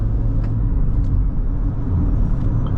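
Haval H6 GT hybrid SUV with 393 hp accelerating hard, a close, loud low rumble of engine and road noise holding steady through a short burst.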